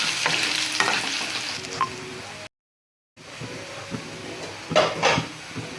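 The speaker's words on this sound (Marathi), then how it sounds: "लसूण टाकूया आपण बारीक कुटलेला हे मिक्स करून घेऊया" Crushed garlic being stirred into frying eggplant bharta in a pan, a steady close sizzle with scraping stirs, cut by a brief silent gap before the frying and stirring resume.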